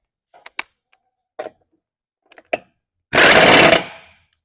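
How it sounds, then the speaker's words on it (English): A socket wrench tightens self-locking nuts on a Sitrex SM-300 tire assembly, heard as a few sparse close clicks and taps followed by one short loud ratcheting burst near the end. "With your 15/16 socket or wrench, you want to tie in your nuts."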